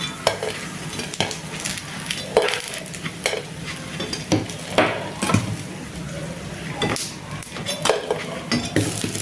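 Cabbage paniyaram lifted one by one from a hot paniyaram pan, a soft continuous sizzle broken by repeated clinks and scrapes of a spoon against metal, close and without talk.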